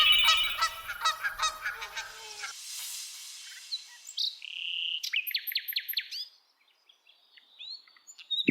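Two golden ducks in a Bengali fairy-tale cartoon give clear, nasal honks and squawks in quick rhythmic bursts, with a brief pause in the middle and bright chirpy calls near the end, heard alone without speech.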